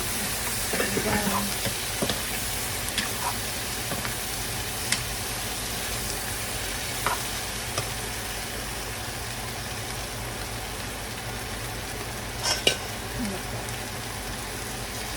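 Shrimp frying in a pan as sauce is added, a steady soft sizzle with occasional stirring clicks running throughout.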